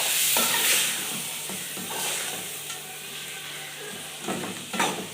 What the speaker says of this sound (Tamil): இப்போ நல்லா வணக்கிக்கலாங்க.